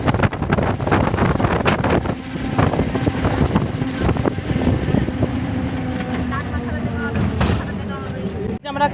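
A boat crossing the Canning river gives a rough engine drone mixed with buffeting wind on the microphone. Close talking runs over the noise throughout.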